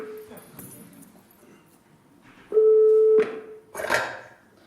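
A telephone call tone sounds as a single steady electronic beep, loud and close, lasting under a second after a few faint clicks and rustles, with a brief burst of noise right after.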